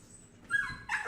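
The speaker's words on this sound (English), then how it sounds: "there's my dog thinks the wife is returning" A pet dog indoors whimpers on hearing a car outside: two short, high, whiny yips in quick succession, close and clear, with no talking.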